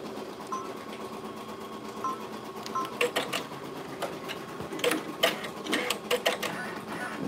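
An embroidery machine stitching a patch whirs with a faint hum, then gives a series of sharp mechanical clicks and snaps as it cuts the thread, heard up close with no talking.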